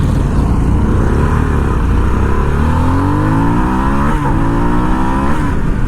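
A 2021 Harley-Davidson Sportster S motorcycle accelerates hard on the road, the loud engine note climbing steadily in pitch through the gears with one brief shift near the end, close to the rider and with no talk.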